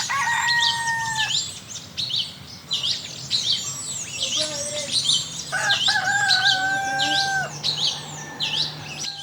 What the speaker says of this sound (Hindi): उधर मुर्गा बांग दे रहा है